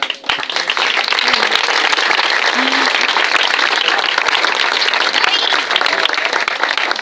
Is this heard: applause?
yes